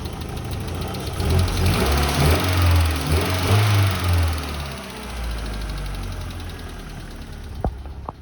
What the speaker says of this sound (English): Just started it up. At cold, the idle is good.